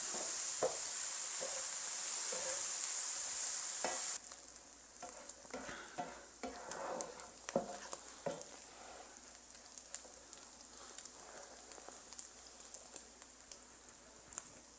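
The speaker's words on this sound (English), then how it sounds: "It's taken about 5 minutes for the bacon to get nice and brown and crispy" Chopped bacon fries in a pan, a soft, close crackling sizzle with scattered pops and stirring scrapes that carries on after a louder hissing opening, no voices.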